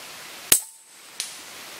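A high-power PCP airgun, such as a Huben K1, fires a cast .22 slug, giving one sharp, loud crack followed by a fainter second report about a second later, with quiet between.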